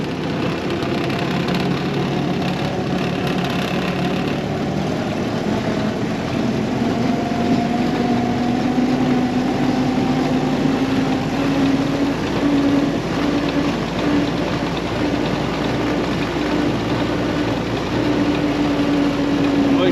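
A historic Ford Willys military Jeep engine drones steadily in low range, a loud sustained mechanical hum with a slowly rising pitch, mixed with wind buffeting the microphone throughout.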